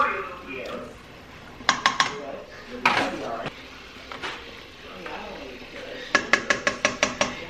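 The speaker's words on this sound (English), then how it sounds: "Then I'm just gonna add some shrimp." Shrimp going into a seafood boil pot with sausage already added, heard as clattering metal and utensil knocks, then a quick run of sharp clinks near the end, with a voice talking over it.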